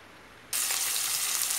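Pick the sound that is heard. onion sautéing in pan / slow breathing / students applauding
onion sautéing in pan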